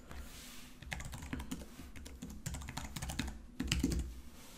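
Someone types on a computer keyboard, a close, quiet run of irregular clicking keystrokes with a brief louder burst near the end and no talking.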